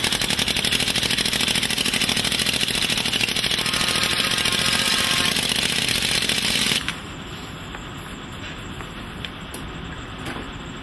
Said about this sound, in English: he further compacts the sand with an air rammer.